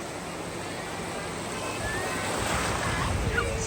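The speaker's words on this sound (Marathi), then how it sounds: "लाट आली बघ." A sea wave rushes in and washes up the shore, its soft hiss swelling to a louder wash toward the end.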